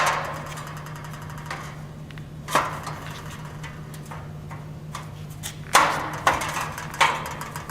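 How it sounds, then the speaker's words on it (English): Lengths of metal track slipped over steel studs while building an outdoor kitchen frame, giving a few sharp, close metallic knocks and clacks spaced irregularly over faint background noise, with no talking. "we're going to go ahead and take our last track and we're going to slip it over those studs"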